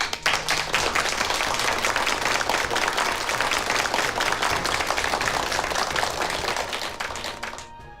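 A gathered group of church believers breaks into welcoming applause, a lively, continuous patter of many hands clapping close by, fading slightly in the final second.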